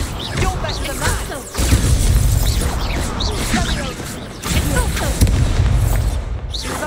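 Confringo blasting spell fired in the Hogwarts Legacy video game, two heavy booming blasts with crashing debris amid loud combat noise and brief voices.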